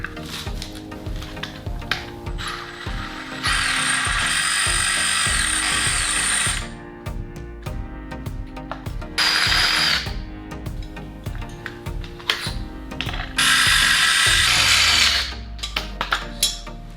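A power drill enlarges roughly 3 mm holes in a metal fitting to 4.5 mm for M4 screws while building a movable workbench for a 2 hp boat. Repeated close, loud bursts of whining drilling come in several runs, with clicks and handling noise between them.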